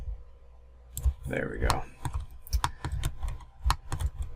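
Computer keyboard keys are pressed in a run of sharp, close clicks at an irregular rhythm, with a brief spoken phrase partway through.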